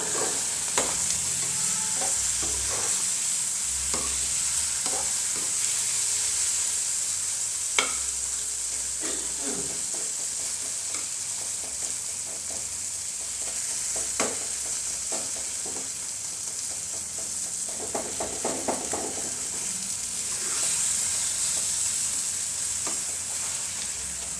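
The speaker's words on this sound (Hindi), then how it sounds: "पनीर पा के दो मिनट अपना भुन लवेंगे" Paneer roasting in a pan gives a steady, soft sizzle throughout, with scattered scraping taps from a spoon stirring it close by.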